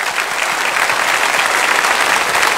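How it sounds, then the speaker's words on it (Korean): A church congregation applauds to welcome missionaries, a dense, steady wash of clapping from many hands that fills the room without letup. "우리 큰 박수로 환영하겠습니다"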